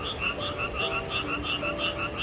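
Frogs croaking beside an abandoned, rusty swimming pool in Gero onsen, Japan: a close, regular series of rapid paired calls repeating about every third of a second.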